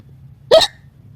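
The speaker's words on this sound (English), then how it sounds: "Now George has the hiccups" A single loud hiccup from a young cartoon pig character, one short sharp burst standing alone against a faint low background hum.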